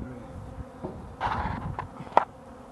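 Bees hum faintly and intermittently while a colony is removed from the wood of a thousand-year-old church near Stonehenge, with soft handling noises and a sharp knock near the end.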